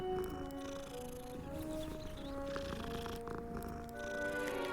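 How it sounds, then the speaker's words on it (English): A cat purrs in the video game Hogwarts Legacy, a soft, continuous rumbling purr close by, steady and low in level with faint background game ambience and no speech. "Ooh, it's a kitty! Oh, pet the kitty."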